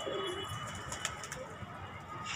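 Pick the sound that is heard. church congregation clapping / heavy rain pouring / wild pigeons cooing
wild pigeons cooing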